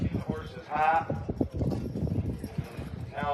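Draft horses' hooves clip-clop on the dirt track at a horse pull, a busy, uneven patter under steady talk and crowd noise, with brief animal calls rising over it.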